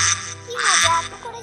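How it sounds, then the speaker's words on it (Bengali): Cartoon ducks let out in the morning, giving a couple of short, nasal quacks close up, with a faint tonal background beneath. "প্রতিদিনের মতো মালা সকালবেলা হাঁসগুলোকে ছেড়ে দিল"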